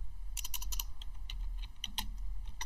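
Typing on a computer keyboard: rapid bursts of crisp, close key clicks with short pauses, steady and alone without talk.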